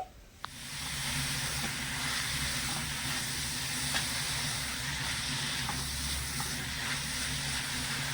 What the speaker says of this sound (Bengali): ভালো করে নেড়ে ছেড়ে মিশিয়ে নেব বাঁধাকপিটা নাড়াচাড়া করতে করতে দেখবেন অনেকটাই কমে আসবে